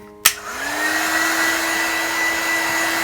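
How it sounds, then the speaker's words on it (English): A heat gun blowing hot air to dry paper clicks on with a sharp switch snap, then spins up into a steady, close, loud whirring rush of air with a rising motor hum that holds evenly. "get the heat gun going to speed up the process"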